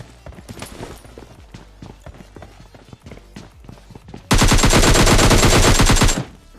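Battle royale game gunfire: rapid single shots crack in an uneven rhythm. They give way to a dense, loud sustained burst of automatic fire lasting about two seconds, then a sudden stop.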